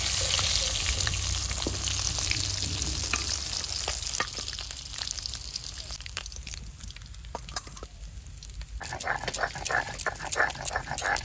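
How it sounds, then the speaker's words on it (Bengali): Pieces of rohu fish frying in hot oil in a pan give a loud, continuous sizzle and crackle that runs throughout, with scattered sharp pops and occasional clatters. "আমার মাছও ভাজা হয়ে গেছে"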